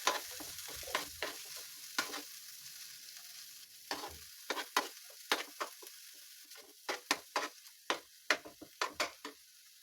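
Homemade tomato puree fries in a pan with a quiet sizzle, while a spatula taps and scrapes in quick, irregular clicks that grow busier toward the end.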